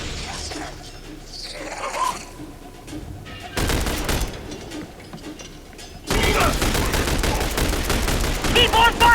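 Dense gunfire fills a firefight in the shooter game The Bureau: XCOM Declassified, with rapid bursts that build to a loud, sustained fusillade and voices shouting in the background.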